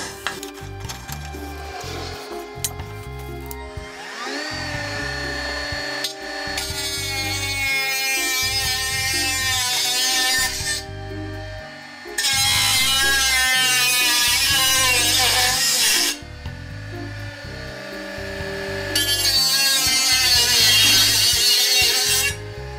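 A Chopper WX801 cuts a small piece of metal in three loud grinding bursts of several seconds each, separated by quieter gaps, over a rhythmic background beat.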